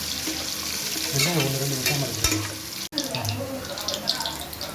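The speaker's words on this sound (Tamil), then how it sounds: "வெங்காயம் நல்லா வதங்கிருச்சு" Onions sautéing on a high flame for chicken biryani with jeera samba rice, a steady sizzle with stirring scrapes in the pan and faint background noise.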